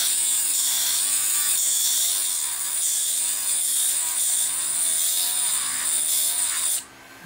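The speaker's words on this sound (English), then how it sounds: "take your Dremel and go back and forth in opposite directions" A Dremel rotary tool grinds a quahog shell for jewelry making, a loud continuous high-pitched whine with wavering pitch as it moves back and forth, cutting off abruptly near the end.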